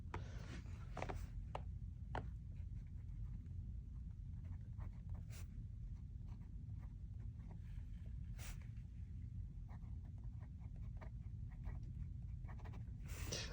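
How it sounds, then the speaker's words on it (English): A fountain pen filled with free-flowing ink scratches across paper in a quiet room, soft continuous scraping strokes broken by faint taps and pauses, close to the microphone over a low background hum. "I'll lower that camera down so that you all can see how this pen is going to write"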